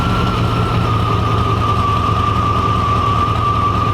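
A 1995 Chevy 350 V8 idling steadily at about 1,000 rpm after an IAC valve replacement, a constant low rumble with a thin whine over it, close and loud throughout with no talk.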